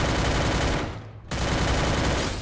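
Sustained rapid automatic gunfire from the Free Fire video game, loud and dense, with a brief drop-off near the middle before the burst resumes at full intensity.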